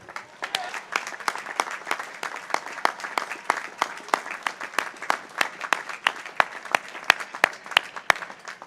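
A large graduating class at a university commencement ceremony bursts into sustained applause with cheering, dense rapid clapping filling the hall steadily for several seconds.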